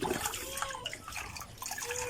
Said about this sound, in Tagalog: Dagdagan ko yung tubig.